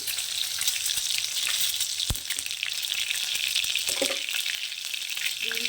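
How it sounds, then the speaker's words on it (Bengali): Eggs fry in hot oil in a pan while being cooked with salt, turmeric and chili powder, a steady close crackling sizzle throughout with a few faint clinks and stirring sounds. "তেল গরম হয়ে গেছে এবার ডিমগুলোকে আমি এর মধ্যে দিয়ে দিচ্ছি"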